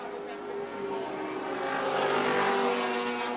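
A 1984 touring car racing at Wanneroo accelerating hard toward a fence, a steady engine drone rising in pitch and loudness as it builds, heard from a trackside distance.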